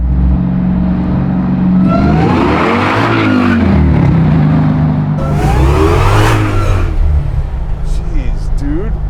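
A 745 hp Chevy C10 pickup with a Hellcat crate engine swap revs hard and loud, its tires spinning and squealing in two long surges while people talk over the roar.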